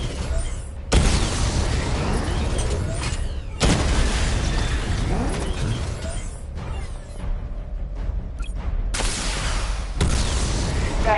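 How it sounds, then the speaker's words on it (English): Missile barrage from the Batmobile in Batman: Arkham Knight, a string of loud booming explosions in long sustained bursts separated by brief gaps, with mechanical rumble under the blasts. "Charge the missile barrage to level 2 to destroy up to 4 targets at once."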